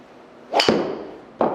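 Golf club striking the ground just behind the ball on a fat shot with a wood, heard as one sharp swoosh-and-thud impact followed by a brief decaying ring, with a second softer knock shortly after.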